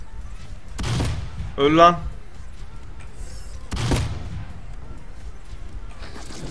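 Gunfire in a video game: two separate bursts of shots about three seconds apart, punchy and close, with a short spoken exclamation between them and quiet game ambience around them.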